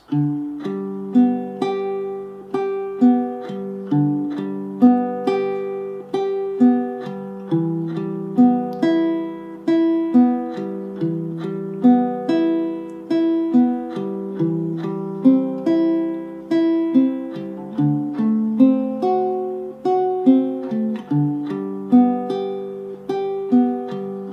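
Fingerpicked baritone ukulele rolling through a chord progression starting on C, plucked notes in a steady, lilting pattern with brief pauses, clear and close with no voices.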